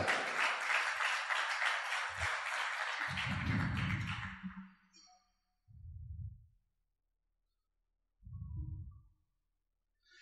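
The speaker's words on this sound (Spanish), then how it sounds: "Denle el aplauso al Señor" Congregation applause during a church sermon, a dense crowd clapping that stops abruptly after about four seconds, followed by a few low, separate thuds and bursts with silence between.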